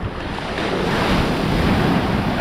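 Surf and steady wind noise buffet the microphone at a beach on Moreton Island as a jetski is pushed out into the water; a broad, continuous roar of waves stays loud and close throughout, with no talking.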